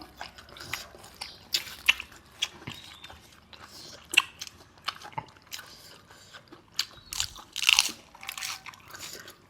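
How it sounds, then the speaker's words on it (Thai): Crunchy squid in a spicy Thai papaya-style salad bitten and chewed close to the mic, with repeated crisp crunches and wet chewing in an uneven rhythm. "หมึกกรอบมาก"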